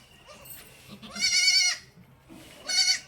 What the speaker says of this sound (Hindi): आप लोगों को दिखाएं अपनी बकरी।